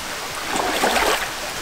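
Water from the waterfall at Secret Springs near Kununurra splashes and rushes over rock as a steady, close broadband wash, swelling slightly midway through.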